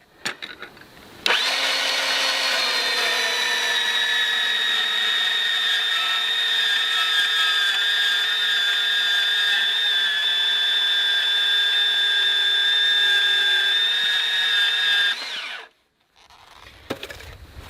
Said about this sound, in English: So I'm just cutting this all thread to 10 inches long.